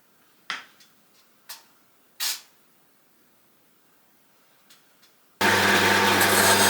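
Turrets cut into the top of a wooden dice tower: a few short, separate rasping saw strokes against quiet, then a loud, steady, continuous power-tool cutting noise starts abruptly and runs to the end.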